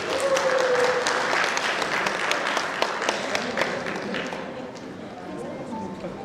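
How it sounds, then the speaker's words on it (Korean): Audience applause at a Rotary club district meeting welcoming a speaker to the podium, a dense steady wash of clapping that fades slightly toward the end, with murmured voices underneath. "큰 박수로 환영해 주십시오."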